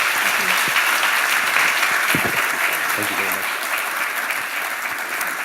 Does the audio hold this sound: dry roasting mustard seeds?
no